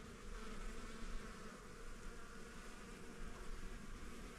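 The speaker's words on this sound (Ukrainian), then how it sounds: "як ці бджоли гудуть" A dense, steady buzzing of a swarm of bees on flowering phacelia fills the air, close and continuous, with no voices.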